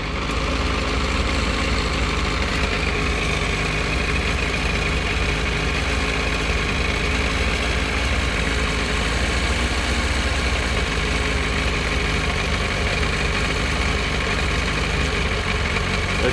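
A Yamaha FZS 600 Fazer motorcycle engine idles during carburetor synchronization, a loud, steady, close-up rumble with a raised idle and constant mechanical vibration and no pauses.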